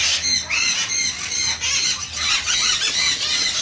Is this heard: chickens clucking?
yes